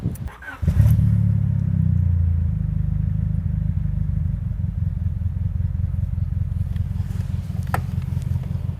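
Third-generation Honda Prelude engine running poorly and low on fuel: it catches after a short start-up, then settles into a steady, close, low rumbling idle with a faint uneven clatter.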